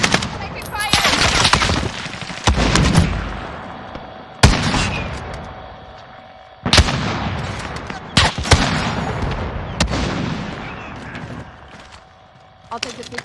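Gunfire in the Call of Duty Modern Warfare Warzone Payload mode: sharp, loud shots and bursts strike every second or two, some close and punchy, others trailing into echoing rumble, with in-game radio voices talking underneath.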